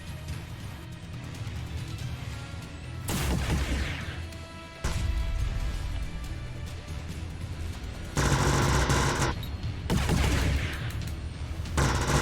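CIWS close-in weapon fire in the Nimbus Infinity flight game: loud, continuous rapid-fire bursts starting and stopping over a steady roar of engine and combat noise, close and dense.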